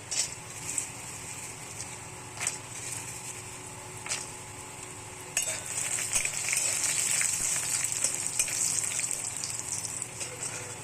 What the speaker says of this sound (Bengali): এবার অল্প তেল দিয়েছি এবং বড়িগুলো ফ্রাই করে নেব